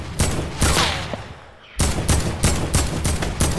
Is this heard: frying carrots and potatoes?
no